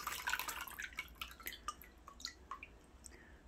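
Water dripping and trickling from a drained pot used for growing bean sprouts, a quiet cluster of small, close drips and splashes that slow and thin out over a few seconds.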